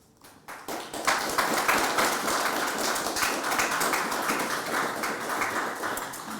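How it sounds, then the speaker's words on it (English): A conference audience breaks into a sustained round of applause that swells after a quiet start and carries on steadily, dense and fairly close, with no talking over it. "So can we all give a very richly deserved round of applause?"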